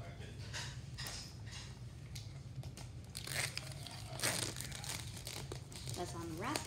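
Crinkling and crumpling of packaging as a Google Nest Mini smart speaker is unwrapped, with soft tearing and rustling throughout, while people talk nearby.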